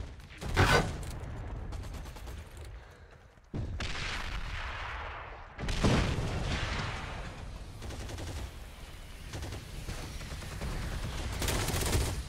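Video game gunfire booms in loud bursts and rattling volleys, with sharp blasts and sustained automatic fire spread across a busy multiplayer battle.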